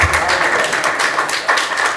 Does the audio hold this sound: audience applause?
yes